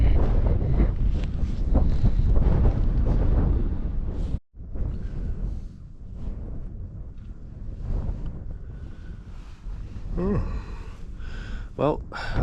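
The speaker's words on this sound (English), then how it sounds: "it's been gusting really pretty much all night" Strong night wind on Scafell Pike buffets the microphone at a campsite in heavy rumbling gusts that rise and ease, with a voice speaking under the roar at points.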